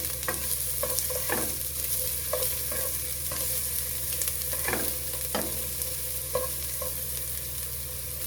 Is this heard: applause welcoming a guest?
no